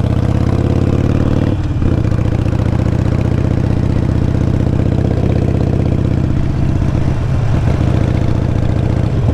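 A motorcycle engine drones steadily and close up, dipping briefly during a gear change into third, then holding an even, mid-pitched running note with light mechanical clatter. No one speaks.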